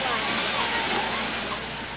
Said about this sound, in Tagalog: lalo pang lumakas ang hangin at ulan. Nagdilim ang langit. Ang dagat, nagngangalit.